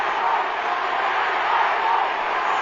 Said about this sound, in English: The crowd starting to have their piece